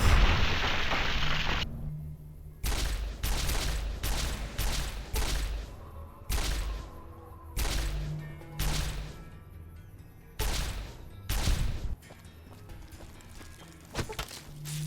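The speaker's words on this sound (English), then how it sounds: "I use my recharger rifle and clear the area of giant ants" Recharger rifle in Fallout New Vegas firing at giant ants: a series of sharp, loud energy-weapon shots spaced irregularly, each with a short decaying tail, with no talk.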